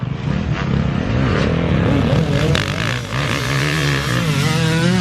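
Motocross bikes race at a track, one of them a four-stroke, and their engines rise and fall in pitch while revving hard throughout. A commentator's voice carries over the top.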